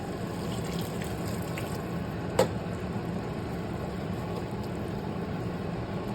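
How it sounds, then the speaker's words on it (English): Water pours steadily into a pot of spanakorizo with pressed garlic, a constant rushing splash with one brief knock partway through. "So now I'm gonna add the water."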